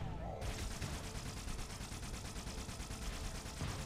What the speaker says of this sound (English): Also, please stop shooting me.